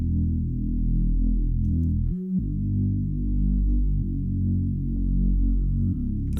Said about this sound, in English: Let me start the bass by itself just so you can hear what I'm talking about more fluently